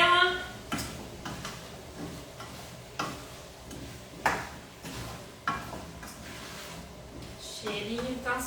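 A spoon stirs vegan feijoada with vegetables in a cooking pot, giving repeated close scraping and knocking strokes at a steady pace, each followed by soft bubbling, while a person talks over it.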